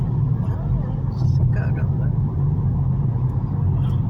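Dense road traffic on the Imigrantes highway near São Paulo rumbles steadily as a constant low roar, with a faint passing swish partway through.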